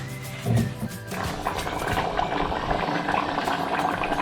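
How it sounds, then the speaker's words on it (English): Cashew nut curry boiling in a lidded pot on a high flame, giving a steady close bubbling and simmering wash that runs continuously, with a brief louder knock near the start. "The curry started boiling. I'm going to keep the lid on and let it simmer for a good 10 minutes."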